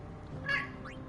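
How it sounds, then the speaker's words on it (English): A single short cat meow from the Final Fantasy XVI Rising Tide expansion, faint and brief over a low game-music bed. "Meow."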